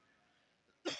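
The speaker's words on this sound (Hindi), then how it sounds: "खांसी बहुत आ रही है।" A single sharp cough near the end, loud and close, after a moment of quiet room tone.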